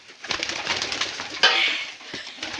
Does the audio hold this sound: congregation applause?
no